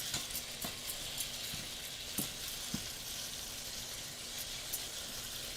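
Spicy shrimp and green beans sizzle quietly in a pan with a steady frying hiss, broken by occasional soft scrapes and taps as the mixture is stirred.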